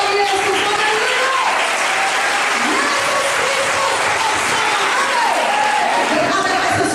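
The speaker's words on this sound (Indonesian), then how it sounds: "Ada tepuk tangannya bagi Yesus." A congregation at a church revival service in Banjarmasin gives loud, sustained applause that stays continuous for several seconds while a voice speaks over it.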